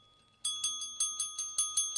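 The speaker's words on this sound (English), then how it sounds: "you got your bell ready? Get ready." A small bell rung on a quiz or game show, giving a rapid, even series of about eight bright metallic dings with ringing overtones, close and clear.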